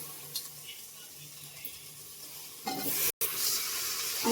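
Potatoes for masala rice are tipped into a hot pan, and a bright, loud sizzle breaks out after a quiet stretch of low kitchen hum, with stirring scrapes as the frying continues.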